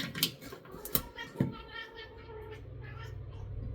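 A cat meows a few times in short, close bursts at breakfast time, then a steady low hum fills the background.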